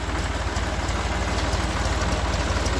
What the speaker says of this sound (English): Tractor's running this belt some way or the other.